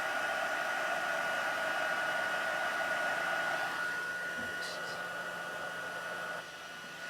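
A heat tool blows with a steady, loud whirring hiss while heating stamped vellum, its pitch dropping partway through, then the level falls near the end with a couple of faint taps; no talking.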